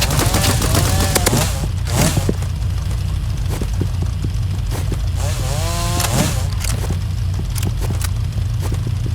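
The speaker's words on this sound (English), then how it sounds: "Sometimes you can win with this chainsaw by yourself." A chainsaw weapon in the Roblox shooter game Rivals buzzes loudly and continuously, its harsh revving saw drone layered with rapid gunfire bursts and game effects, with no talking.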